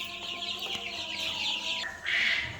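White chickens cluck and cackle close by on a farm, a few overlapping calls rising and falling, with a louder burst near the end.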